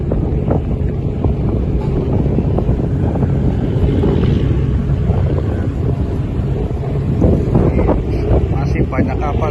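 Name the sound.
strong wind in a harbour with boats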